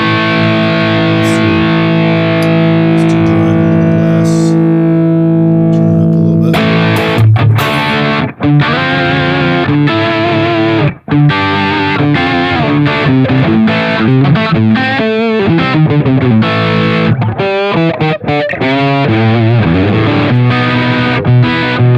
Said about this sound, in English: this is just the distortion that he plays through